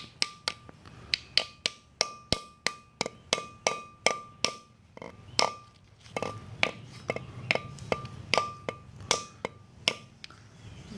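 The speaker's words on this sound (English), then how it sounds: "I'm kind of holding my hammer at an angle and just driving the red portion down" Sharp metallic hammer taps strike in a steady series, about twenty blows with a short pause midway, close and ringing, with no talking, driving a seal into place during a front disc brake install on a 1966 Ford Bronco.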